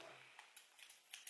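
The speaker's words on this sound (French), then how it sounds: "Ciseaux." Faint, quick snips of scissors cutting, several light clicks in irregular succession, close by and quiet.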